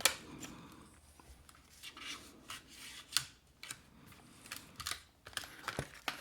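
An Icon 10-inch pliers wrench being unpacked, close crinkling, tearing and tapping of packaging in irregular bursts, with no speech.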